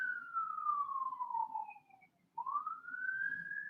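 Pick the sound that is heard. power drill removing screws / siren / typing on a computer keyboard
siren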